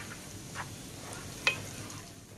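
Semolina stirred and roasted in hot ghee for halwa, giving a faint, steady low sizzle with a couple of light scraping clicks from the stirring.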